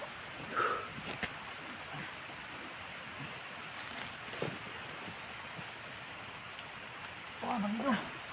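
Steady rain falling outdoors, a constant hiss of drops on surfaces, with occasional louder knocks and brief voices in the background.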